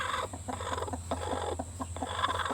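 Two broody hens cluck and squabble over the same nesting box in a coop, with repeated short clucks and squawks close by over a low steady background hum.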